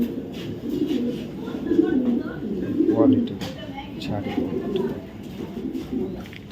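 A light-coloured male racing pigeon coos in soft, repeated low murmurs at close range, with several brief bird calls over steady background noise.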